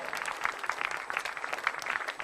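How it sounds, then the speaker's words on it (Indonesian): An audience at a stand-up comedy show claps in a brief, lively burst of many hands that swells and dips unevenly at moderate loudness, with no speech over it. "Tepuk tangan ya."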